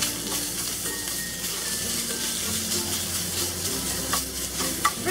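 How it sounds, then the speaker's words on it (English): Pork frying in hot oil in a wok for a Sichuan dry-braised dish, a steady close sizzle with stirring scrapes and clanks running throughout, no talking. "Add a little extra oil. We're gonna cook the pork."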